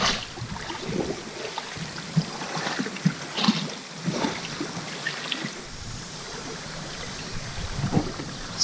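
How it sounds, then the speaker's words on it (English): Steady rushing water of the fast-flowing Eleven Point River in Missouri, heard from a kayak, roars continuously, a broad full wash with occasional splashes and knocks rising above it, fairly close and loud. "As you can see, the water is really moving."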